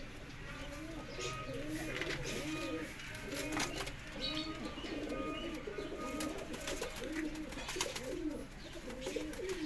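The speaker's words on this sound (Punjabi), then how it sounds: "ਇਹ ਲਾਲ ਅੱਖਾਂ ਦੇ ਕਬੂਤਰ ਆ" Golden pigeons, some with red eyes, coo in repeated low rolling calls close by, forming a continuous overlapping chorus with faint background chirps and no talk.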